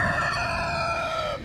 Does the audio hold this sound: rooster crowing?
yes